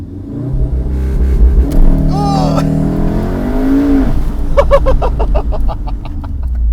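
A modified 367 hp VW Golf R with ESP switched off launches hard: engine note climbs through rising revs, then a burst of rapid crackling pops, with voices and laughter around it.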